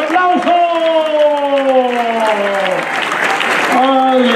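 Steady applause from a crowd fills the space, with a sustained musical tone or voice-like harmonics ringing over the clapping throughout.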